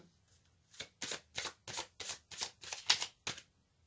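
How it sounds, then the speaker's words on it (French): Cards drawn and shuffled from an aromatic oracle deck during a reading, giving about nine crisp, evenly spaced riffling flicks close to the microphone, with no talking. "je vais tirer une carte de l'oracle aromatique"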